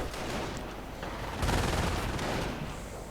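Bursts of gunfire and mortar shots ring out in a real-time strategy battle where a mortar team fires at an enemy machine-gun position, a dense, continuous crackle of shots with a heavier thump near the middle and no talk.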